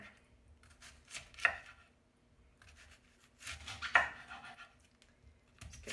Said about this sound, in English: let's go ahead with the safest part, which is always a flat side down, and slice here